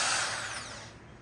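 A high-pitched power drill whines briefly, its motor winding down slightly over about a second.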